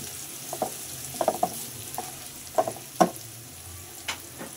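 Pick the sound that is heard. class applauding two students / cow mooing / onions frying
onions frying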